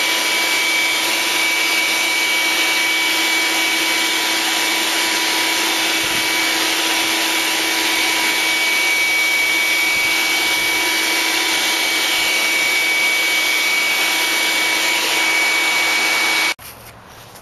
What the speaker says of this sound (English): Now you'll vacuum the foam underneath the lid